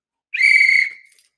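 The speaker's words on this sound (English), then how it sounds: "I'm blowing the whistle on" On a sports talk show, one short, shrill whistle blast rings out loud and clear for about half a second, then fades quickly into silence.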